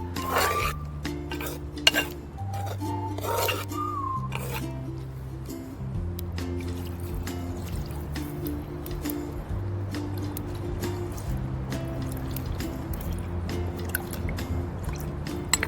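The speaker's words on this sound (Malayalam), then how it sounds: "നല്ലപോലെ അടി തീർത്ത് ഇളക്കി കൊടുക്കണം" A spoon stirs and scrapes food in a pot during outdoor cooking, giving scattered sharp scraping strokes under steady background music, with no talk.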